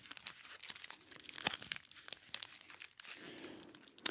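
A Nestle Crunch chocolate bar wrapper crinkles and tears open in close, quiet handling, with dense crackling rustles throughout.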